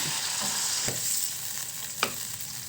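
Marinade poured into a pan of frying chicken, a steady loud sizzle with a couple of sharp crackles and stirring clinks.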